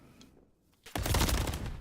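Gunfire erupts in an Apex Legends-style battle royale shootout during a competitive XP League match, a quiet lull giving way to a sudden, loud burst of rapid, overlapping shots that keeps hammering on to the end.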